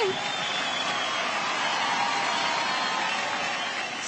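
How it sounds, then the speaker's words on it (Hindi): A studio audience claps hard and unbroken for a duet dance pair on a TV performance show. The dense wash of clapping holds at a loud, steady level from start to finish. "जोरदार तालियां उर्वशी और पॉल के लिए।"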